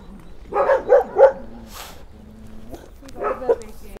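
A dog at an animal shelter gives three quick barks close by, then quiet whimpering tones, followed by a couple more softer barks.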